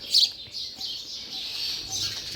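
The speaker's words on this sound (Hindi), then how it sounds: "छोटे छोटे घर हैं लकड़ी के चिड़ियों के, और चिड़ियाँ आ भी गई हैं" Small birds chirp near little wooden birdhouses in a forest, one bright sharp tweet up close followed by fainter scattered calls over quiet woodland air.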